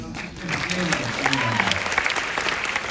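Audience applause at a BeyondFest horror triple-feature screening of Freddy vs Jason, You're Next and Evil Dead, a dense steady clapping crowd filling the room, with voices and a few whoops rising through it.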